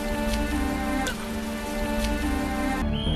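Steady rain pours down in a scene from the film The Pool, where a person is trapped at the bottom of a swimming pool with a crocodile, a dense continuous hiss with a droning tonal bed beneath and an abrupt change near the end.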